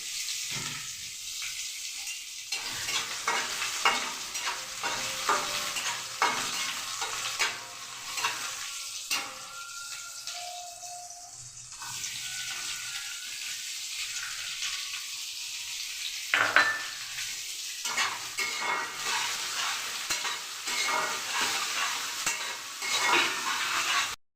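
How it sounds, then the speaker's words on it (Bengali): Onions hiss and crackle in hot oil with garlic and dried chilies for a dhaba-style dal tarka, stirred repeatedly so the sizzle surges and dips, with occasional scrapes against the pan and no voices. "রসুনটা একটু ভাজা ভাজা হলে আমি পেঁয়াজটা দিয়ে দিচ্ছি।"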